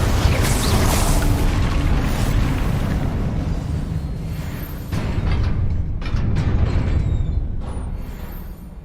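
Loud, continuous booming blasts from fiery Confringo and Incendio spells in Hogwarts Legacy, a dense roar of explosions with crackling bursts that swells and eases over several seconds without speech.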